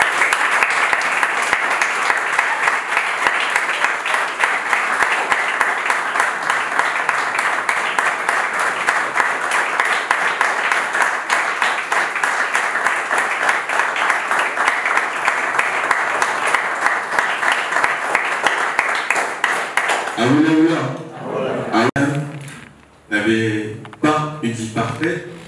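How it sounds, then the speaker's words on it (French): Sustained applause from an audience at a live French-language talk, a dense steady wash of many hands for about twenty seconds, then it fades as a voice begins speaking. "Sous vos applaudissements"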